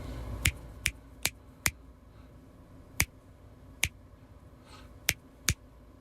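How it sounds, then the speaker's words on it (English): Eight sharp, crisp claps spaced in a steady, uneven rhythm from a 7th-grade class rhythm exercise, each a distinct isolated hit over a quiet background. "You're performing, clapping with me."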